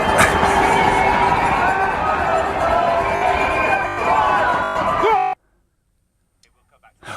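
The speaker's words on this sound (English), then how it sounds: "thousands of people here cheering on spectators." Thousands of spectators cheer runners near Tower Bridge at the London Marathon, a dense roar of voices and noise that suddenly cuts out into silence before a brief return at the end.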